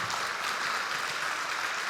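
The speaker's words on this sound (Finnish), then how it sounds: "Antakaas nyt aplodit tällaiselle miehelle." Steady applause from an audience at a Pentecostal church's centennial music celebration in Lappeenranta, a full, continuous patter of many hands clapping at moderate distance.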